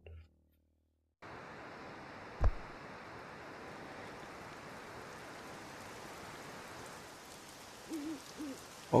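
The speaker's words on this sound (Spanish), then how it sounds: "Que haya lluvia." Steady rain patters inside a room in the video game Pixel Ripped 1995, a constant wash of drops that fills the whole stretch, with a sharp knock near the start and a few brief tonal blips toward the end.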